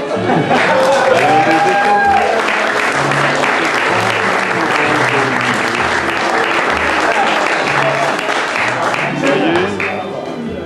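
Audience applause at a live Czech music event, dense sustained clapping from a large crowd that stays strong for about ten seconds before thinning slightly, with voices mixed underneath.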